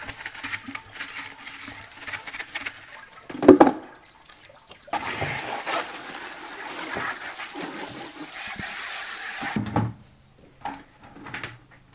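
Buckets are scrubbed with water at a stable, irregular bursts of splashing and rubbing with a loud clatter early on, then a longer stretch of continuous sloshing and scrubbing, ending with sparse knocks.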